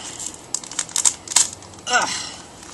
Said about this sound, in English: Let's get the cards out.